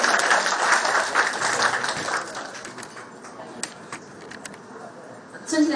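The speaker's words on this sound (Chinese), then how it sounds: "大家掌声欢迎。" An audience claps in applause at a banquet marking the centenary of mantis-style kung fu in Guangzhou, a dense burst of clapping that is loud at first, then thins to scattered claps before swelling briefly again.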